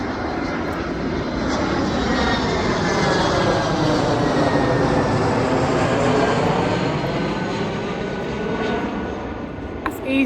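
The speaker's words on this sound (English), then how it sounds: "EasyJet flying over." An EasyJet airliner passes overhead, a broad steady roar of jet engines that swells and holds loud throughout, heard alone without talk.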